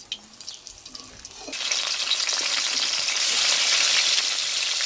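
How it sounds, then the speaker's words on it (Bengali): Rohu fish head frying in hot oil while a Bengali masala curry is cooked, a steady close sizzle that swells louder partway through and stays dense and crackling to the end, with no talk. "মাছের মাথাটা এবারে ভেজে নেওয়া।"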